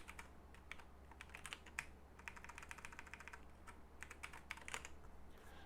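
Quiet computer keyboard typing runs in quick irregular bursts of key clicks, close but faint, during a programming session with no speech.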